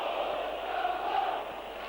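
Bournemouth football supporters at a 1989–90 match, heard as a steady, distant crowd roar of massed voices swelling slightly, with no clear individual speech.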